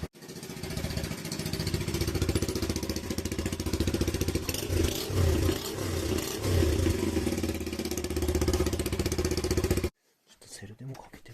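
A Honda Super Cub motorcycle engine idles close by with a fast, rhythmic putter and a few throttle blips, then stops abruptly near the end, leaving quiet handling noises.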